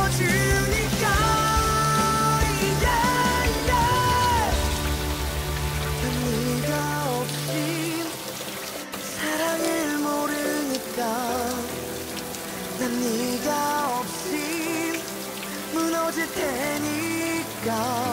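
Steady rain patters continuously beneath louder pop music with singing, forming a soft, even hiss throughout.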